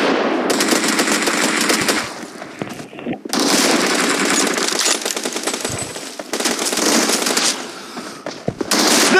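Automatic gunfire in a PUBG squad-versus-squad team deathmatch, with loud, rapid rattling bursts that keep returning across the stretch and a few brief pauses between volleys.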